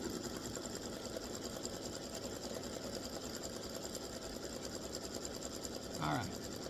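An embroidery machine satin-stitches around a baseball bat appliqué on a quilt block, giving a constant fast mechanical buzz at moderate volume, with a brief clatter near the end.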